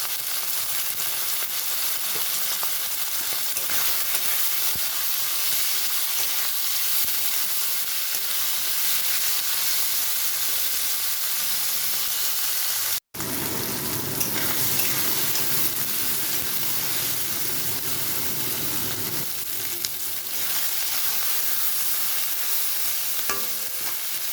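Onion, tomato and green chilli frying in a pan for chicken keema, a continuous loud sizzle with stirring scrapes, a brief cut midway, then softer watery sizzling with some tap-like running water.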